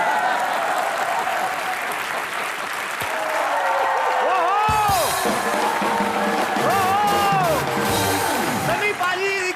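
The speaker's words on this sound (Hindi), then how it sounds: "सनी पाजी के लिए जोरदार तालियां आप बजा ही चुके हैं" A studio audience on a comedy show applauds Sunny Deol with dense, sustained clapping. Cheers and whoops rise midway, and a voice carries on over the noise throughout.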